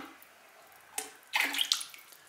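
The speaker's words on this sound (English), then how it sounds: "So we're gonna pour in like that. I generally just swill it around like that a bit." Glaze is poured into a 14 oz pottery pitcher and swilled around inside it. A short splash comes first, then a longer, sloshing wet swirl that sounds close and moderately loud, with no talking.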